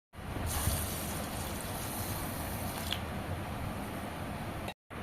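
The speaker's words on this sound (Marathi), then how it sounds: "तांदूळ आणि डाळ मी आता 3 ते 4 पाण्याने स्वच्छ धुवून घेणार आहे।" Rice and lentils being rinsed in water for dosa batter make a continuous splashing, sloshing swish, close and fairly loud, ending with a brief cut.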